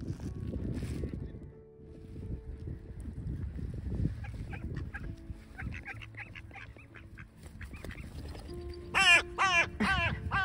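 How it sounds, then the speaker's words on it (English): A crow caws in a loud burst of repeated harsh calls near the end, following scattered bird sounds from ducks, geese and a seagull squabbling over food outdoors. "Yeah, that's my crow."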